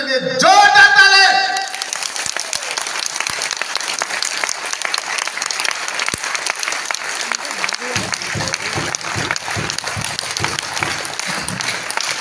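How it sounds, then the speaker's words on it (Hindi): An audience claps loudly for Dr. Lim at a DXN meeting, a steady dense burst of applause lasting throughout after a brief opening sound, with faint voices underneath. "एक जोश भरा, उमंग भरा, हौसला भरा डॉक्टर लिम के लिए जोरदार ताली"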